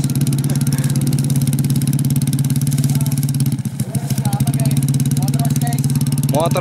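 A motorcycle taxi engine idles steadily and close by in a rice field, with a low throbbing rumble throughout and a brief dip before it steadies again.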